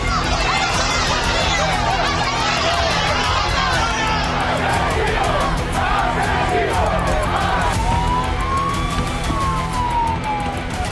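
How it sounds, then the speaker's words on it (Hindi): Angry crowd shouting slogans at Spain's king and prime minister during their visit to a flood-hit area, a dense roar of many voices yelling at once, loud and continuous, with a siren-like wail rising near the end. "चारों तरफ गुस्साई भीड़ थी"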